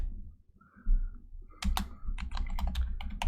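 Computer keyboard typing, with a short burst of key clicks at the start and then rapid, steady keystrokes close by for the remaining seconds, no talk over it.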